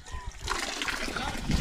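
Water splashes and sprays steadily from a loosened faucet in a home bathroom, a continuous close rushing splatter with faint voices in the background.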